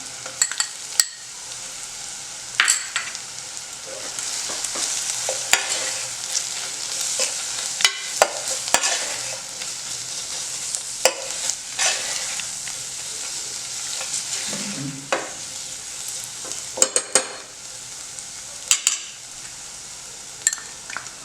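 Ground spice paste stirred into hot oil with curry leaves for a pithla, continuous close sizzling punctuated by scattered clinks and scrapes of a spoon against the pan, no talking.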